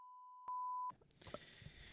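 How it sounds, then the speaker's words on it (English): A steady sine-tone censor bleep covers speech, holding an even pitch with a brief louder burst, then cutting off into faint room noise and murmuring. "just beep that part out"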